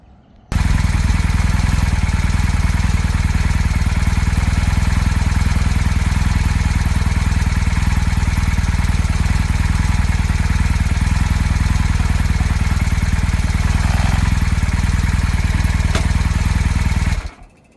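A 1983 Honda CM450A motorcycle engine runs steadily in first gear, a loud, continuous close-up drone with mechanical clatter that holds evenly for about sixteen seconds before cutting off abruptly.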